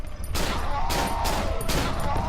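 Dual-wielded guns fire in Cry of Fear, loud rapid shots in quick bursts, close and continuous over a dense game backdrop.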